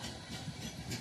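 A freight train of box cars rolls past, giving a steady, close rumbling roar of wheels and cars for a single second with no talking.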